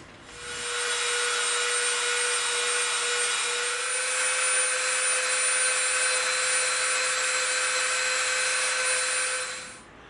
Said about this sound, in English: So let's use our Dremel